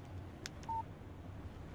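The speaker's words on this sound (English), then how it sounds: "Text message from Barry." A phone text message alert in the Alan Wake video game: one short, clean electronic beep, preceded by a couple of faint clicks, over a steady low ambient hum.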